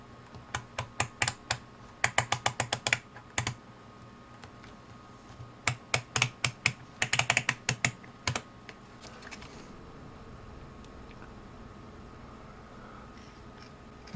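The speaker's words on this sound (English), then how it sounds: "Let me just rotate the dial on both meters to give you an idea what the two sound like." A UNI-T UT61E+ digital multimeter's rotary dial turned through its positions, giving a burst of quick, crisp plastic clicks, then a pause and a second run of clicks from another meter, close up over a quiet background hiss.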